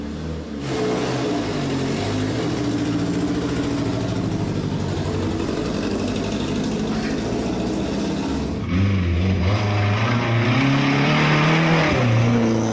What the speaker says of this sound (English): It's a Mercedes-Benz 190 of the Ponton series, built in 1958.